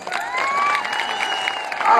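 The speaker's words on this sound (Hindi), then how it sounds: "आप तो सब ताली बजा रहे हो।" Audience at a speech by Home Minister Amit Shah applauding and cheering steadily as a crowd, a dense wash of clapping with voices mixed in, swelling slightly at the end.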